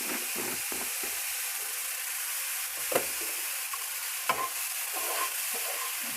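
Cumin and coriander powder fry in a pan with a light, even sizzle, and a spatula stirs and taps against the pan now and then. There is no talk.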